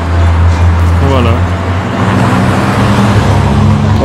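Cars passing along a street in a small town, a loud close engine and tyre rumble that swells and recedes, with people talking over the traffic.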